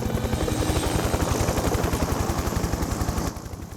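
Helicopter coming in to land, a loud close rhythmic thudding of rotor blades with a steady whine, easing slightly near the end.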